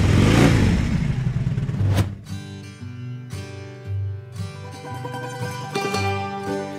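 A motorcycle on a road trip through the Peloponnese in Greece revs loudly and close for about two seconds, then music takes over.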